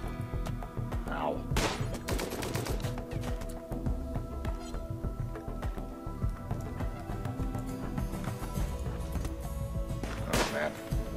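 Gunfire from the video game Rimworld crackles in scattered sharp bursts over a busy game soundscape, with occasional louder shots standing out.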